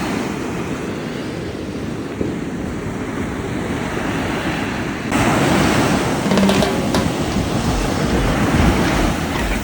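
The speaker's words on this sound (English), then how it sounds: "Letting the waves do their thing." Ocean waves break on a beach at Portofino Beach Resort in a steady, loud wash of surf, growing heavier partway through, with wind noise on the microphone and no voices.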